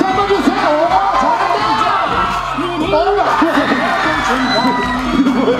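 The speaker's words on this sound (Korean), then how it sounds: "박수 한번 주세요!" A crowd at a university campus dance event cheers, whoops and shouts continuously over loud music, a dense and lively roar close by.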